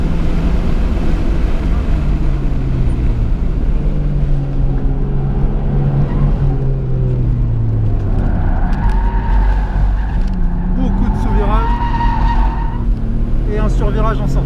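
Car engine revving near 7000 rpm through a corner, with a loud steady engine drone and rising whining pitches as the car oversteers on exit, close and continuous with someone talking over it.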